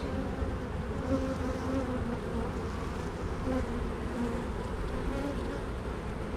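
Honey bees buzz in a dense, steady drone throughout an open beehive inspection of brood frames with larvae and eggs, the hum close and continuous with no talk.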